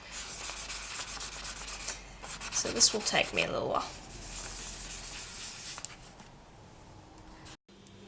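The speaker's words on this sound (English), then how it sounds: "I'm going to go with the classic sanding route." Faux snowflake obsidian clay pendants are sanded by hand, giving close, scratchy rubbing strokes that rise and fade in bursts, with a person briefly talking over the work.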